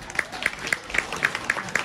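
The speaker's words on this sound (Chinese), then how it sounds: "感谢朋友们的掌声鼓励。" Audience applause greeting a pair of xiangsheng crosstalk performers at a Deyunshe evening show in Sanlitun, with steady clapping throughout and no speech over it.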